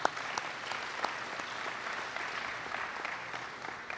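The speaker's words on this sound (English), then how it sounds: "Give him a round of applause" A crowd applauds at a high school football ring of honor ceremony, steady dense clapping sustained throughout at moderate distance.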